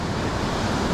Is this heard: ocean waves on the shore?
yes